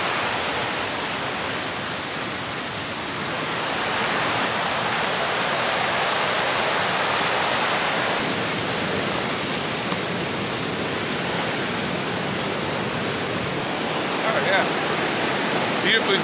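The roar of Bog River Falls, a broad, steady rush of falling water that fills the scene close by and stays constant throughout, with no speech.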